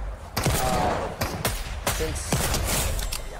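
Shotguns fire in Fortnite in a quick burst of several sharp, booming blasts a few beats apart, loud and close, with softer thuds and game noise between them.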